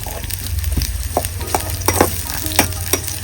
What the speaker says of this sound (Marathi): कांदा आपण थोडासा लालसर भाजून घेऊया.